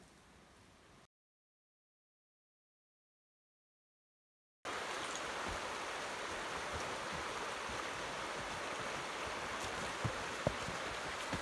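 Bluff Creek flowing near the Patterson-Gimlin site in Willow Creek, California, a steady close rushing and babbling of water, loud and constant after a brief silent gap.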